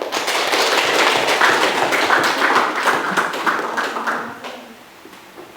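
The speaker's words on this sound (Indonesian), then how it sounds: "Maka tepuk tangan buat kita semua" Students in a classroom clapping their hands together, a dense sustained burst of applause that stays loud for several seconds and then tapers off near the end.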